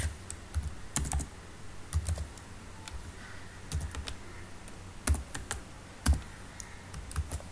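Computer keyboard keys clacking as code is typed, in quiet, uneven bursts of clicks with short pauses between them and no voices.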